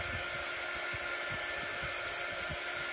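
Steady close whir of a hair dryer blowing over an ink craft project, running continuously and evenly with a faint low rumble underneath, no talking.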